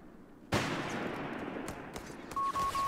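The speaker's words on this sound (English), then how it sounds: "that was a lot of gunfire" A sudden burst of dense, rapid gunfire erupts and rumbles on, followed by a steady electronic beeping tone, in a loud video-game battle.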